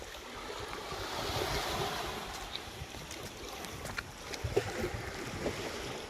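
Surf washing onto a beach at Sorex Beach in Rizal, Palawan, a steady broadband wash of waves rolling in with a few sharper breaks near the end, heard alone without voices.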